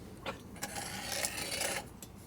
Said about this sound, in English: Take the burr off.